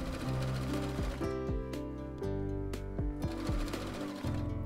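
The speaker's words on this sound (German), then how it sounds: "werde knappkantig entlang der Taschenkante steppen" A sewing machine topstitching close to the folded pocket edge of a quilted vest, running in a steady, fast mechanical chatter with brief changes in speed, close up and alone.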